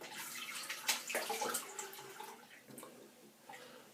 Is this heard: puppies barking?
no